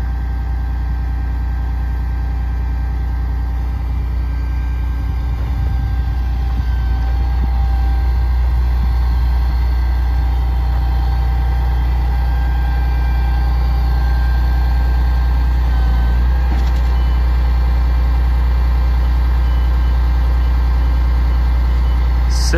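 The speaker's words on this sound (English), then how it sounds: "that knuckle boom's functioning as it should" A 2005 Freightliner M2 heavy truck with a PM 34S knuckle boom crane runs on diesel, giving a steady, loud low engine drone with continuous mechanical hum throughout, no voices.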